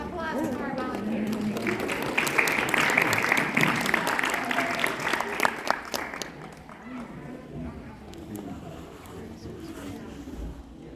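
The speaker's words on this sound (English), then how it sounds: "Applause for our volunteers." Applause for parent volunteers at a fourth grade school concert, a crowd clapping in a dense burst that gradually thins, with voices chattering underneath and a speaker talking near the end.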